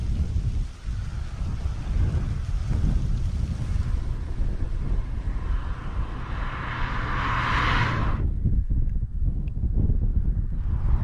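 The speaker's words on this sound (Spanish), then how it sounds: "Hay un poquito de viento y lo tenemos en contra" Steady roar of headwind buffeting the helmet while riding a motorcycle along Ruta 40 between El Bolsón and Trevelin in Patagonia, loud and continuous throughout, with a brief hiss swelling and cutting off near the end.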